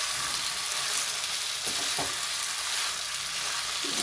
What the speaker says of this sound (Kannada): ಇದನ್ನು ಚೆನ್ನಾಗಿ ಬಾಡಿಸ್ಕೊಂಡು ಇವಾಗ ಚೆನ್ನಾಗಿ ಮಿಕ್ಸ್ ಮಾಡ್ಕೋಬೇಕಿದ್ದೀನಿ